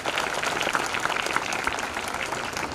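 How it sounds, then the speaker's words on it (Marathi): An audience claps for a children's drill performance at a school event, giving dense, steady applause that carries on at an even level, somewhat distant, with no talk over it. "त्या सर्वांचं आपण टाळ्या वाजून अभिनंदन केलं पाहिजे"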